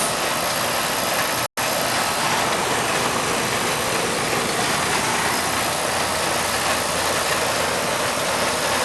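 A Ruud central air conditioning compressor running low on refrigerant charge, heard as a steady, loud mechanical hum and broadband rush that carries on unbroken apart from one brief dropout.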